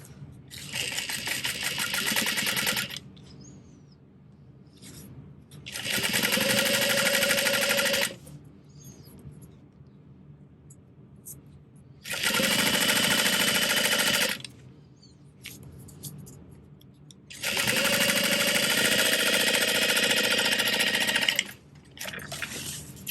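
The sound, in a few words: sewing machine stitching a bag's bottom panel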